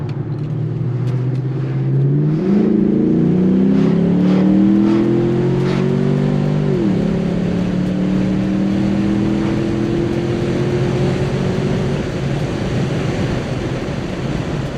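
A Pontiac G8 GT accelerates hard from low speed with the windows down, its engine note climbing loud and close through the gears, one audible shift dropping the pitch before it rises again under rushing wind and road noise.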